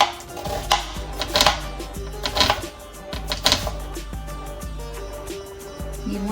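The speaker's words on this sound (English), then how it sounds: "Then we'll also chop up an onion." Zucchini with its skin on and an onion being chopped on a cutting board, a steady run of knife taps close by with several louder chops and faint kitchen background.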